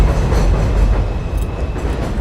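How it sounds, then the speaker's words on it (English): An elevated subway train in the Wakefield area of the North Bronx rumbles past with a steady, loud, continuous roar and a faint metallic ring high above, no voices heard. "You can hear the train going by right now."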